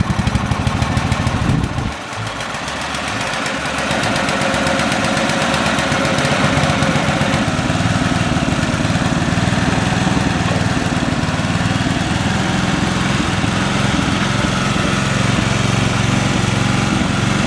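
A Simplicity garden tractor engine fitted with a cheap Chinese carburetor runs loud and steady close by, with a rough, uneven idle that surges slightly. It sounds alone, with no talk over it.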